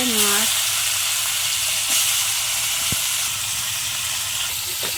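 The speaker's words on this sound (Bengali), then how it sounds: "মাছগুলো ভালো করে ভেজে নেবো" Khoira river fish frying in hot oil in a wok, a steady loud sizzle and hiss throughout with a few faint clinks.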